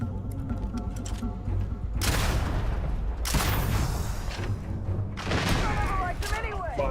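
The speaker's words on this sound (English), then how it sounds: "Αυτό είναι grenade launcher." Grenade launcher blasts in Starfield, two loud broadband booms about a second apart followed by a third burst with crackling debris, over a low steady rumble of game ambience.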